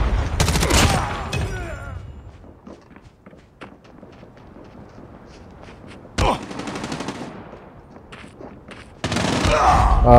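Bursts of automatic gunfire from the mobile video game Call of Duty Mobile: a loud volley at the start, a sharp burst partway through, and a sustained stream of shots at the end, with quieter scuffling in between.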